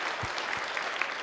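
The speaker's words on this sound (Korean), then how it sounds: "일단 박수 한번 쳐줍시다." A church congregation gives brief, fairly faint applause during a Sunday worship service, a soft wash of clapping lasting about a second.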